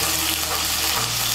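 Ginger and green chili paste frying in oil with a splash of water makes a close, steady, bright sizzle with some stirring, continuous for the whole short stretch.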